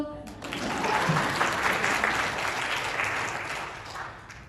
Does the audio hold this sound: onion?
no